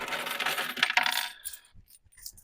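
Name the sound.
coins dropping, collected change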